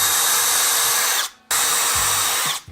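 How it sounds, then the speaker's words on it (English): Power drill boring dowel holes in wood, two loud sustained whirring bursts close up, each about a second long, separated by a brief stop, with a third just starting. "So let's go ahead and drill those holes"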